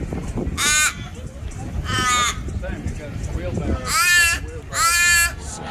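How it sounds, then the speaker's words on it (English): Big black crows caw at a bar on Rottnest Island, Australia, with four loud, harsh calls coming in separate bursts over a low murmur of nearby voices. "all the netting is big black crows everywhere"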